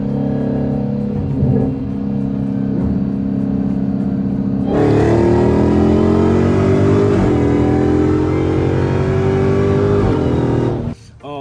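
A stock 2016 Dodge Hellcat on a drag strip idles with a deep, steady rumble, then launches at about five seconds into a loud, sustained roar as the engine revs hard and pulls away, cutting off abruptly near the end.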